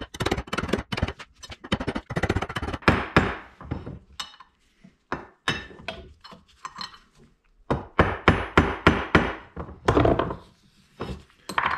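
An old bearing race is used to hammer a new race, coated with a little anti-seize, into a casing, giving sharp metallic blows in quick irregular bursts with short pauses between them.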